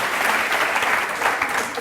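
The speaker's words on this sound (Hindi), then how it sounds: "ताली बजाइए जोर से।" Loud, sustained applause from a studio audience on a televised courtroom-style talk show, dense and even clapping filling the whole stretch.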